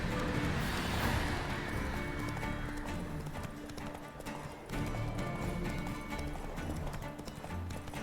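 Hooves clip-clop in a steady trotting rhythm as Roach, a horse in a video game, moves along at a moderate pace, with a faint neigh near the start and a continuous background bed beneath.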